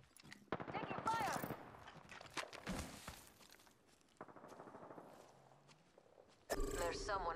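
Enemy gunfire in Apex Legends crackles in scattered bursts at fairly low level, with clearer volleys early and another near the end, mixed among game voice callouts and other quiet action sounds.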